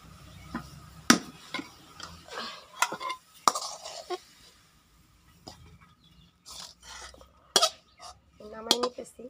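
A cooking pot of boiled greens is lifted off a home stove, with sharp metallic clinks and clatters of pot and utensils scattered among quieter handling noises, close by and moderately loud.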